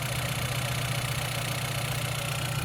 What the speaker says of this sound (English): And there's that 2-liter turbocharged 4-cylinder.